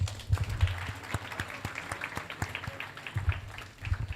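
Scattered applause from a small audience at a scientific conference session, light, uneven hand claps at moderate distance that stay fairly faint, with a low hum in the room.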